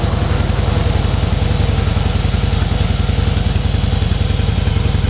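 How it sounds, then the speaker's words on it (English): A Harley-Davidson Deluxe FLSTN with factory exhaust idles close by on a cold day, its loud, steady, lumpy pulsing continuing without a break. "Engine's nice and quiet. Factory exhaust."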